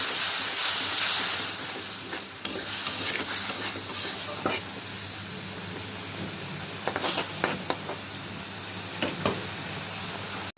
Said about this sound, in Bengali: লবণ অল্প একটু জল দিয়ে নিলাম মশলা একটু কষিয়ে নিলাম